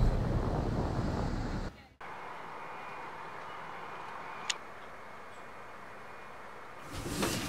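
Strong wind blasts across the microphone on a dive boat off the Cayman Islands, with ocean swell washing underneath, a constant rough roar that cuts out briefly and then returns.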